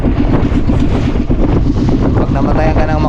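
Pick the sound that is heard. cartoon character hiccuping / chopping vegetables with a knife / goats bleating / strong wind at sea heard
strong wind at sea heard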